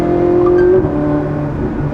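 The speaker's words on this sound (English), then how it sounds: "The exhaust is surprisingly loud for just cruising on the highway." A 2010 Ferrari 458 engine and exhaust drone loudly and steadily while cruising at highway speed, a sustained harmonic hum with a slight shift partway through.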